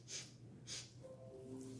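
A person imitates sniffing, with two sharp, close nasal inhalations in quick succession, followed by a faint, soft hum-like tone.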